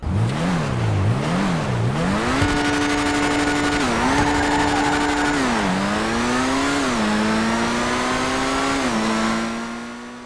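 Loud, continuous engine of an S80RR supercar, modelled on the Nissan R90C, racing in GTA 5: revs climb and drop with gear shifts, then hold a steady high whine before easing off at the end.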